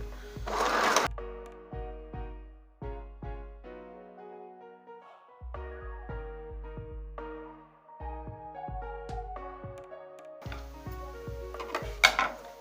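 A domestic sewing machine stitches along a seam line while taking in oversized clothing, running in short repeated bursts with pauses between them, close and clear, with no talking.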